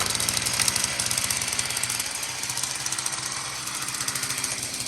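A 49cc dirt bike engine runs steadily close by, its rapid buzzing putter and rattling exhaust pulses continuous and fairly loud throughout.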